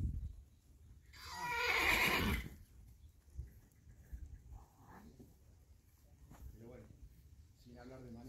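An Arabian horse loose in a countryside field gives one loud, shrill whinny near the start, followed by quieter snorts and muffled sounds, with people talking faintly in the background.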